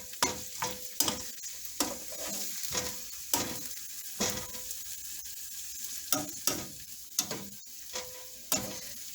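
Broccoli sautéing in a hot pan for an omelette, stirred repeatedly so it sizzles in short, sharp bursts of scraping and crackling at an irregular rhythm, close and fairly quiet, with no speech.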